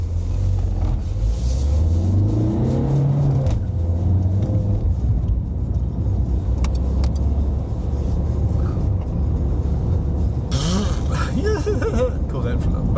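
A car engine hums low and steady from inside the cabin of a moving car on a road trip from Throsk to Bannockburn, with some rumble, rising revs and talk over it.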